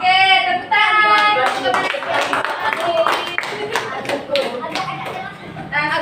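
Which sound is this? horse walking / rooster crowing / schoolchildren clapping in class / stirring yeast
schoolchildren clapping in class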